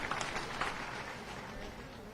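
An audience claps steadily at an outdoor political rally, a dense continuous patter of hands heard at a moderate distance with no talking over it.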